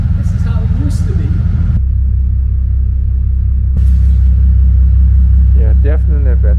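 A Bentley engine idles with a steady low rumble, rising to a fuller hum partway through, while people talk over it at the start and again near the end.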